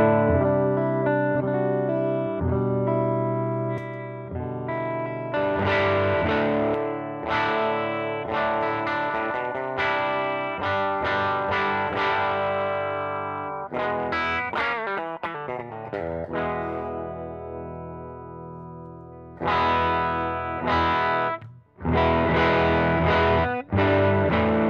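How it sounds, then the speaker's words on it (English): An electric guitar played through an overdrive pedal breaks up into gritty distortion when picked harder, with loud chords and runs alternating with brief pauses. "But if I dig into it, you can hear that break up quite a bit more."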